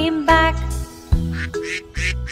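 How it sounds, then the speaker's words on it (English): Duck quacks sung in a children's nursery rhyme song, a series of bright, nasal quacking notes over a bouncy backing track, several spaced out and loud. "Mother duck said quack, quack, quack, quack"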